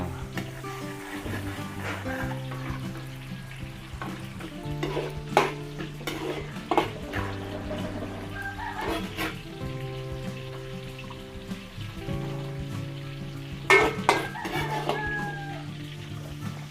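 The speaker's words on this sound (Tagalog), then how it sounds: "Lagyan na po tayo ng mantika. Tayo magigisa muna." Garlic sautés in cooking oil for a Filipino bihon noodle dish, a soft crackle with occasional stirring clinks, while chickens cluck and a rooster crows nearby throughout.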